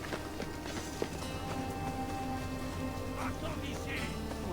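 Video game horse hooves clip-clopping at a running pace, a steady mid-level rhythm with game music and effects underneath and a brief quacking sound near the end.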